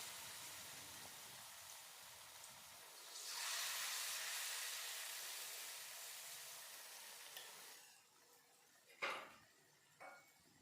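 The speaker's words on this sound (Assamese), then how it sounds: "এয়া তেলখিনি গৰম হ'লত ইয়াত এতিয়া মই পিঠাকেইটা দি লৈছোঁ।" Banana pitha drop into hot mustard oil and fry with a loud, steady sizzle that swells suddenly and then fades slowly, followed by a few light clinks of a utensil near the end.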